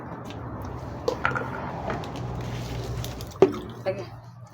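Water poured slowly from a hose trickles and drips, with a few sharper splashes and drops landing over a steady low background hum.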